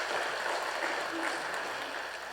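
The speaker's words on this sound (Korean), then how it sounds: "우리 박수로 한번 격려하겠습니다." A Korean church congregation applauds during a Sunday worship service in a steady, dense wash of clapping that sounds somewhat distant and holds at an even level throughout.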